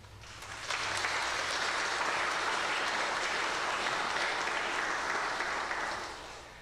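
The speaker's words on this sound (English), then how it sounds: "give yourselves a round of applause" A church congregation at a joint Sunday service breaks into warm, sustained applause that swells quickly, holds evenly for several seconds, then tapers off, sounding from a roomful of people.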